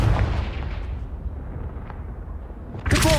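A fire spell explosion in Hogwarts Legacy: a deep rumbling blast that rolls and decays over about three seconds, ending with a sharper crackling burst, loud and with no speech.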